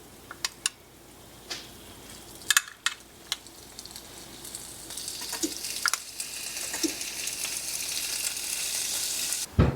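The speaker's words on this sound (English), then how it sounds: "now our meat's sizzling" Meat sizzles in a frying pan with a steady hiss that grows louder over about ten seconds, broken by sharp crackles and pops, and no talking is heard.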